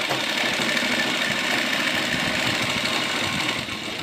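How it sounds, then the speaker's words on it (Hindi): A sewing machine runs continuously while stitching palazzo fabric, giving a close, even mechanical whir and rattle that eases slightly near the end, with no talking. "बिल्कुल बराबर से मशीन ही चलाते चले जाएंगे, और बिल्कुल बराबर से इसकी सिलाई लगा लें"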